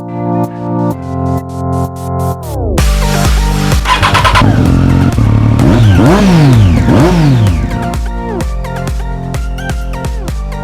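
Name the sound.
Harley-Davidson Fat Bob motorcycle with 103 engine revving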